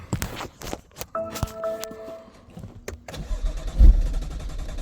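BMW M2 engine cranking without starting: a starter motor whirs in a short burst, then a second crank follows, with clicks and a low thump, fairly close and without any engine catching.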